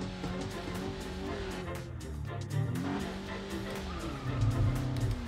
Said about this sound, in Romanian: cum a plecat cu scârț